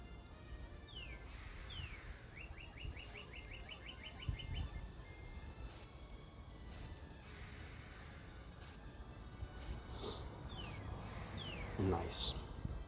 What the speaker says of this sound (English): You clearly can hear that bird out here, though.